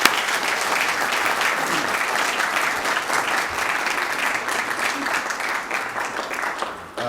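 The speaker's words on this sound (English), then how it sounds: "join me in a round of applause for Jayant and Rajni for this wonderful event" Seminar attendees at a 2014 Capitalism and Morality event clap for the organizers Jayant and Rajni in a long, steady, dense round of applause that tapers off slightly near the end, with faint voices underneath.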